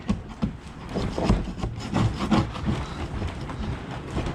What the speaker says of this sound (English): So that's where you have to look at a putty knife. Pushing up this way.